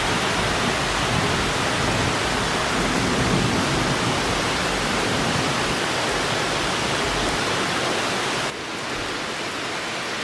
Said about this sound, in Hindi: गजब बारिश हो रही है बिल्कुल।